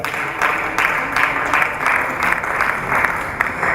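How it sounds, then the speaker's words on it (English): Audience applause in a hall at a university international week session, a steady dense wash of clapping with slight surges, sustained throughout without any talk. "Please, a round of applause for her."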